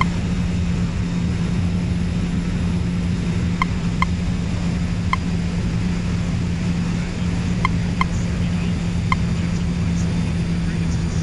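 Aircraft taking off in the video game Nuclear Option, a steady roaring engine drone with a constant low hum and a few faint clicks over it, with no pause throughout.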